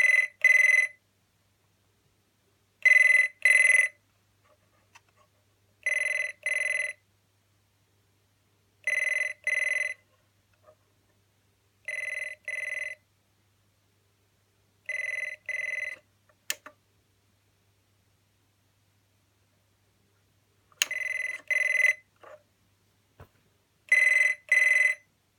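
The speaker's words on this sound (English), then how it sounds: "As I said, it's not quite as shrill as the original, but it's a similar ringtone" A Wild & Wolf replica GPO Trimphone in French Blue trills on its loud setting, eight short warbling bursts spaced at steady intervals of roughly three seconds, clear and close with silence between.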